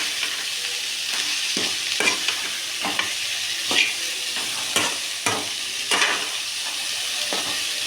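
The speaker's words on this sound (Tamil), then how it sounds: "இப்போ நல்லா மேலே வந்து கீழே வரைக்கும் நல்லா கிண்டிக்கலாம்" Cowpeas for thattai payir sundal are stirred in a frying pan, a spoon scraping in regular strokes about once a second over a constant close sizzle and hiss.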